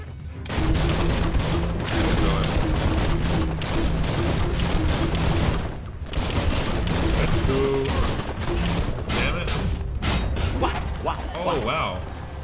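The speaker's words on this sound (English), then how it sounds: "Oh god, something else is shooting at me." Sustained video game gunfire aimed at the player in Biomutant, a loud continuous barrage with booms and thuds, with people talking over it throughout.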